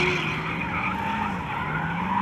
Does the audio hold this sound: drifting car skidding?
yes